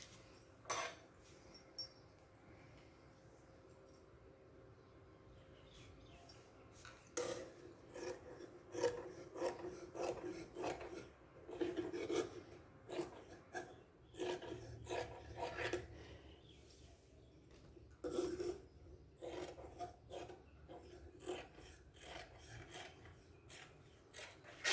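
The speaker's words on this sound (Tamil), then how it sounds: "இப்போ ஸ்லீவை கட் பண்ணி எடுத்துடலாம்." Scissors cut a fabric sleeve for an A-line kurti, producing repeated close, soft rasping snips in irregular runs over a quiet background.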